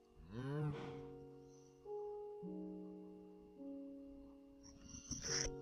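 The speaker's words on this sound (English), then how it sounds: "Holy cows. Stop running, cow." Cows moo in a few long, drawn-out calls, fairly close and moderately loud, with quiet pauses in between. A brief higher cry comes near the start and a sharper burst at the end. No one speaks.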